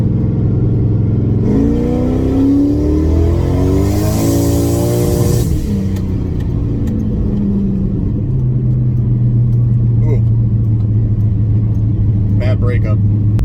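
A turbocharged Camaro with a 2-step revs hard in first gear, its engine rising in a loud, rising roar, holding, then dropping back to a rumbling idle with crackling pops, close up.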